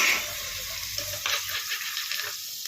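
Chopped tomatoes dropped into a hot pan of frying onions, a soft sizzle with light stirring clicks and scrapes, close and steady without speech.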